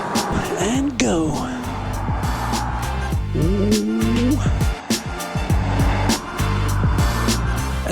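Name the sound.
sports car SUV driving on a circuit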